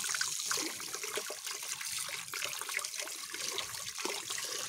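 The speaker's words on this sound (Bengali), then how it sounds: "কল চালিয়ে দিয়েছে" Tap water runs steadily into a sink while hands are washed, a continuous close splashing and trickling hiss that never lets up.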